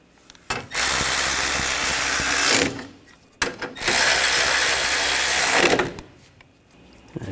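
Ratchet snugging down radiator bolts on a Buick Encore 1.4L, two bursts of rapid close clicking, each lasting about two seconds, separated by a short pause.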